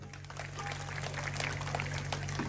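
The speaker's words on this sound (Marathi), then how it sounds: "एकदा स्वतःसाठी महिलांनी जोरात टाळ्या वाजवा" A crowd of women claps at a Home Minister Khel Paithanicha game show, a continuous patter of applause sustained throughout under a low steady hum.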